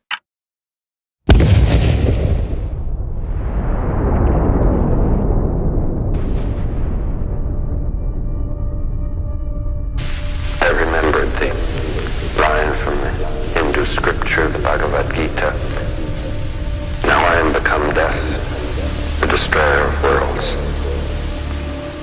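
The Trinity nuclear test explosion hits as a sudden loud boom, followed by a long rolling rumble that fades slowly. Narration and a droning background come in later.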